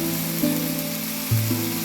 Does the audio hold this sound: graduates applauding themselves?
no